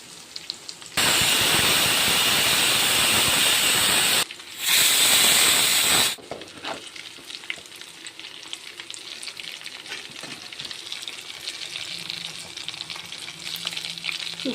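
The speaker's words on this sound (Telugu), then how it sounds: "ఫిష్ మొత్తం టోటల్గా మంచిగా ఫ్రై అయిపోయింది" Fish frying in a pan at home, two loud bursts of close, hissing sizzle, followed by a quieter ongoing crackle with faint clinks.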